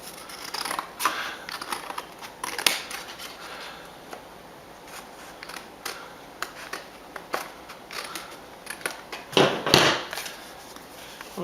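Scissors trim excess paper from the edge of a craft card, a series of crisp irregular snips and paper rustles close by, with a louder cluster of cuts toward the end.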